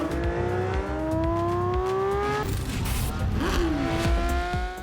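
Porsche 911 GT3 high-revving naturally aspirated engine climbing through the revs with rising harmonic wail, tires squealing and the car passing, loud and continuous throughout.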